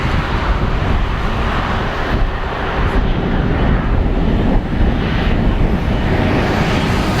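A Fiji Airways Airbus jet takes off from Narita International Airport in early summer, its engines producing a loud, continuous broadband roar heard from nearby with some wind buffeting the microphone.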